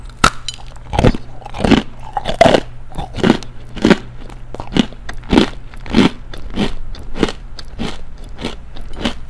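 Hard mugwort almond bread is bitten and chewed up close, giving a series of loud, sharp crunches that repeat in a fairly regular rhythm about once a second, with nothing else heard.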